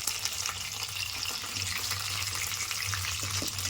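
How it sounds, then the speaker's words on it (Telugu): Chicken pieces frying in a pan of oil, a steady close crackle and hiss with faint low hum beneath, moderately quiet and uninterrupted, no talking. "ఇలా ఫ్రై చేసుకొని తీసుకోవాలి పక్కకి."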